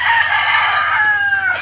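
A rooster crows loudly and close by in one long drawn-out call at morning feeding in the Philippine countryside, with hens clucking softly underneath.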